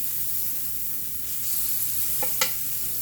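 Red onions soften as they sauté in a pan, giving a constant close sizzle and hiss. Near the end, a couple of quick utensil scrapes and clicks cut through.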